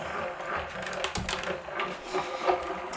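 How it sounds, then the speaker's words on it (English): A Tonic Studios die cutting machine is hand-cranked, pressing cardstock through with a steady grinding, ratcheting mechanical sound at close range and moderate loudness, with no pauses. "if you turn the machine to the side and wind from the side, it's an easier wind for you"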